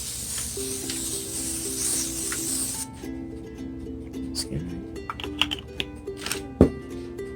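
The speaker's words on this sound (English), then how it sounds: "So we got the foil baking sheet. Just gonna spray it lightly." A hiss of cooking spray onto a foil baking sheet for a few seconds, then quiet clicks and light taps of kitchen handling over a low steady tone.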